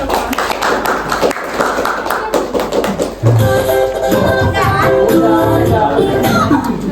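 Students in a classroom clap their hands, a brisk burst of claps mixed with chatter and voices that carries on as the clapping fades into excited talk.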